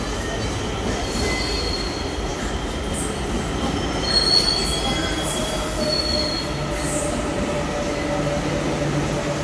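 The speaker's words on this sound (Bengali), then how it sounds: "ট্রেন ঢুকছে, দেখা যাচ্ছে ট্রেন ঢুকে গেল" A Kolkata metro train pulls into an empty station, its wheels squealing in high, drawn-out tones over a continuous rumble and rattle that swells slightly midway, close and loud.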